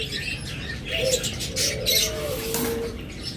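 Pet lovebirds and budgerigars chirp in quick, close bursts, a string of high tweets and short squawks over a steady low hum, with a few soft coo-like notes and no speech.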